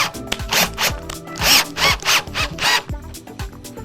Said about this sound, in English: Make sure that you're installing the screws far enough away from an edge that we're not going to split the wood.